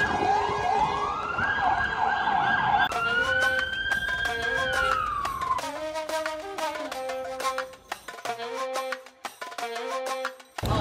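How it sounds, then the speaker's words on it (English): An ambulance siren wails loudly nearby on an Istanbul street, its pitch sweeping up and down as it passes, with traffic noise around it. "So anyways, quick ambulance interruption."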